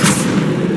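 A Bombarda spell explosion in the Hogwarts Legacy video game: one brief, loud, deep boom with a rumbling low thud, heard alone.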